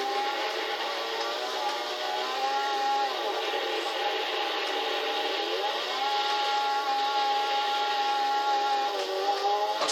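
Mitsubishi Lancer Evo X engine in the Gran Turismo 6 racing game, a steady sustained drone with a faintly shifting pitch, held at constant volume throughout with no talking.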